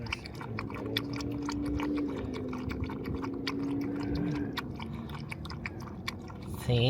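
A dog laps water eagerly with quick, wet slurps and splashes, close up, over a steady engine hum; a faint voice speaks briefly near the end.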